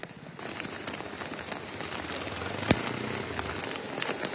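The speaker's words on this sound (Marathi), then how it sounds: "मुंबईमध्ये रात्रभर मुसळधार पाऊस बरसतोय" Heavy overnight rain falls in Mumbai amid street waterlogging, a dense, steady hiss of drops on surfaces with one sharp crack partway through.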